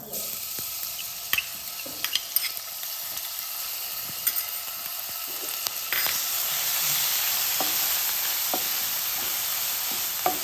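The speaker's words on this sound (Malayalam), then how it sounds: "ഓയിലൊന്ന് നല്ലോണം ചൂടായി വരുന്ന സമയത്ത് ഇഞ്ചി, വെളുത്തുള്ളി, പച്ചമുളകെല്ലാം കൂടി ഞാൻ ചതച്ചതായത് അതും ഇതിലിട്ട് കൊടുക്കാം." Crushed ginger, garlic and green chili sizzle steadily in hot oil, a dense frying hiss that swells louder partway through, with occasional stirring clicks and no voices.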